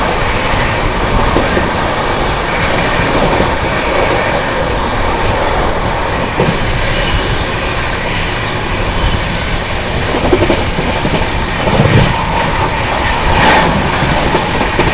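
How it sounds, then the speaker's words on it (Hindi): The Prayagraj Express, running from New Delhi toward Prayagraj, rolls past on the rails with a loud, steady rumble and clatter of wagons and wheels. It sounds close and continuous for the whole stretch, with no talk. "सामने से आ रही है न्यू दिल्ली से चलकर प्रयागराज की ओर जाने वाली प्रयागराज एक्सप्रेस।"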